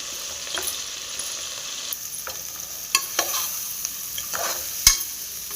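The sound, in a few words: stirring spices into frying vegetable rice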